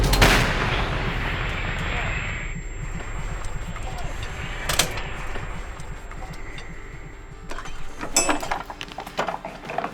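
A military artillery gun fires with a loud deep boom, followed by rumbling echoes and scattered clanks, with crew voices calling commands and talking nearby.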